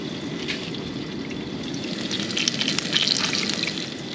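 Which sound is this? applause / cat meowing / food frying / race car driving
food frying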